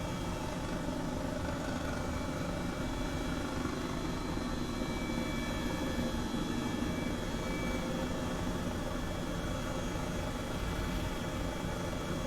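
An Airbus H135 helicopter flies in a flight simulator game, its rotor and turbine giving a constant, even whir with a thin high whine, steady throughout and free of talk.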